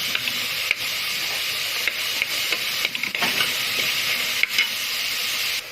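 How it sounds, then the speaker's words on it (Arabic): Chopped onion fries in a pan of fat and ghee, giving a steady bright sizzle and hiss with occasional soft stirring scrapes and small pops, close and continuous throughout. "البصلاية اتحمرت اصفرت اهي"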